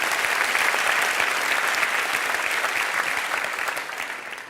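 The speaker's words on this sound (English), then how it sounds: "Let's have a round of applause for the gentleman for helping." Audience at a TED talk magic show applauds steadily, a dense sustained wash of clapping that holds strong and then begins to fade toward the end.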